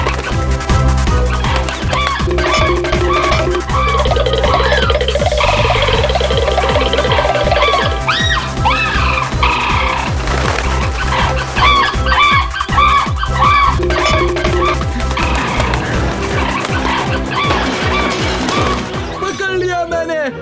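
Clucking and crowing of a cartoon rooster, mixed with busy music and lively talk in Hindi, and loud throughout.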